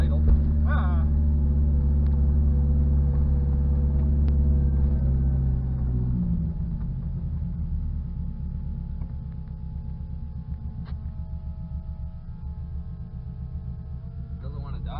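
A Toyota 86 engine idles close by, first a loud low drone and then a steadier, slightly rougher hum after a few seconds, running continuously with brief faint talk at the start.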